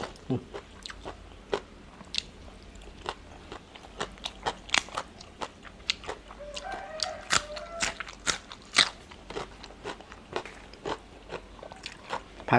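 Close, crisp bites and chewing of som tam papaya salad with a fried omelette, giving many sharp crunches in an irregular rhythm over a quiet background.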